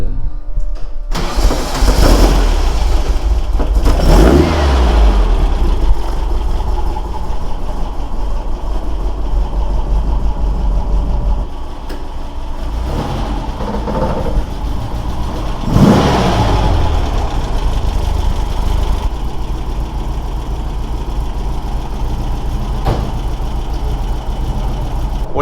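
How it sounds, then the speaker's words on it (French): A 1960 Volkswagen Beetle air-cooled engine cranks and catches, then settles into a steady, loud idle with revving swells, heard close with no talk. "Est-ce qu'on pourrait l'allumer pour essayer d'entendre le moteur?"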